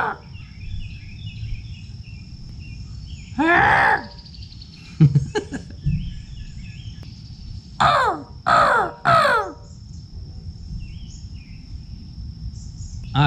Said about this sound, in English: the crows will come back and they'll start to like just become your friend